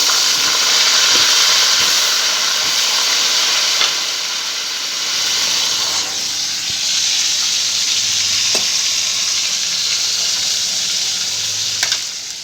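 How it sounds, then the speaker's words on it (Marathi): Brinjal pieces fry in hot oil with cumin and mustard seeds, giving a loud, continuous sizzle with faint scraping and stirring throughout. No voices are heard. "जिरे मोहरी घातली मैत्रीनं आता ही वांगे घालायचे"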